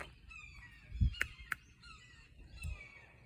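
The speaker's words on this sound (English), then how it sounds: "Oh, that bird's noisy." A loud bird calls nearby with a few sharp honking squawks, then quieter chirps follow in the background.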